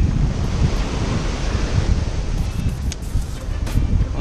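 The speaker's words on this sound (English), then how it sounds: "It's really windy." Strong onshore wind roars over breaking surf on a crowded fishing beach at Ft. Clinch State Park after a tropical storm, a steady loud rumble of waves with gusty microphone buffeting throughout.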